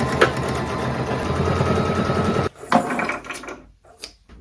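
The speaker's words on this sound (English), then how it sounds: "I'm going to sew straight down each side" A sewing machine stitches straight down the sides of thrifted clothing, a steady close whirr for a couple of seconds, then it stops with a few light clicks and handling sounds.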